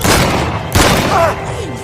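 A loud burst of gunfire from soldiers in a film, with booming, thudding shots, followed by a brief sharp crack and a fading ringing tone.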